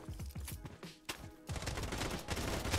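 Rapid gunfire sprayed into the air in the shooter game Bloodstrike, sharp repeated shots in quick bursts that build into a dense, continuous fusillade toward the end, loud and close with no talk.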